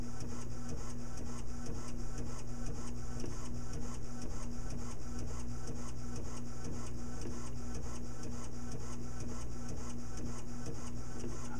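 A Bravo II robot arm disc printer runs nonstop with a fast, regular mechanical ticking over a constant low hum, loud and close.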